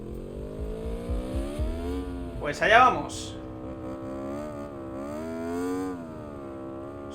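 A motorcycle in the racing game Ride 5 on the short Andalucía Circuit layout, its engine a steady revving drone that rises and falls with a brief louder burst, while someone talks over it.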